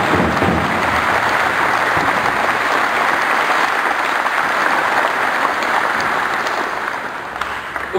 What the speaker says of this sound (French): je vous prie de faire une salve d'applaudissements et d'ovations